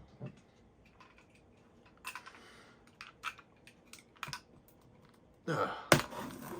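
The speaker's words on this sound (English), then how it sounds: "let's get on with this unboxing right here and open this mystery box" Taped cardboard mystery box holding Greenlight diecast cars being opened: scattered crisp clicks and scratches of tape and cardboard, then a louder burst of ripping and tearing near the end, with no talk.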